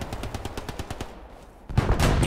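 A video-game machine gun fires in a fast, rapid burst of regular shots, then a louder blast of heavier gunfire follows near the end.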